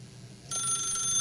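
An electronic telephone ringing in the video game The Stanley Parable, starting abruptly with a bright, steady ring over a quiet low hum.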